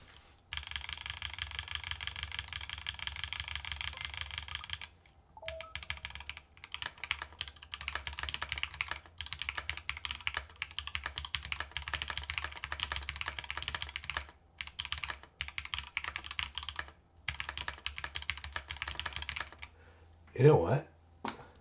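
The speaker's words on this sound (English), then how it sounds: "Let's see how it sounds right now with the Epsilon switches." Typing on a Game Boy Advance themed mechanical keyboard fitted with Epsilon switches: a dense, steady stream of close keystrokes with brief pauses, ending in one louder knock.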